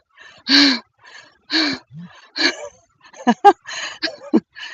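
Heavy, ragged gasping breaths after a hard workout, a series of loud close inhales and exhales with pauses, quickening toward the end, with no talking.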